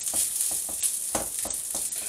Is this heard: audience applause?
no